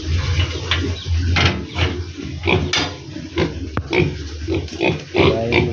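Piglets let out to feed on azolla at a backyard pig pen, grunting and squealing in a busy, overlapping chorus with clattering knocks close by, steady and loud throughout.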